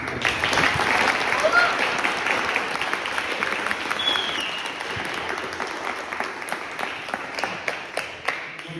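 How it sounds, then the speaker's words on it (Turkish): An audience applauds the club president and board at a Bursaspor goalkeeper academy event, with sustained, dense clapping close by that thins into scattered claps toward the end. "Zırtlan Başkanımı ve yönetim kurulunu alkışlıyoruz."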